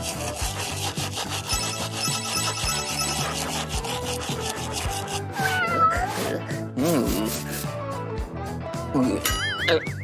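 A cat meows and caterwauls repeatedly while a brush rubs rhythmically through its fur in long, scratchy strokes. The mewing grows louder and more frequent near the end.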